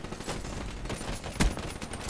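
Gorgon weapon fire in Black Ops 3 gameplay, a dense run of rapid gunfire bursts with one sharper, louder shot partway through, and no talk over it.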